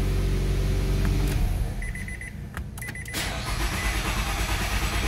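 A 2014 Nissan Altima with a 2.5L engine and an intermittent long-crank fault cranks with a fast low churning, then catches and idles after a brief gap with a few warning chimes.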